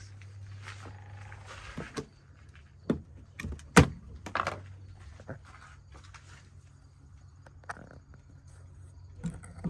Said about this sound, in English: So I'm going to pop the hood here.